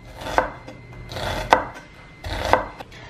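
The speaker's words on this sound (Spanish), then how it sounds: "Picamos la cebolla bien chiquitita." A knife chopping onion finely on a board, three distinct sharp cuts about a second apart, each with a soft scrape before it, close and fairly quiet.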